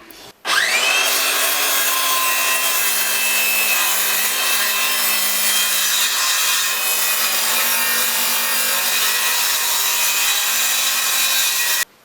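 A saw runs with a steady, loud whine as it cuts a 10mm strip from a wooden board held by a backer board. The sound is continuous and close, with no talk.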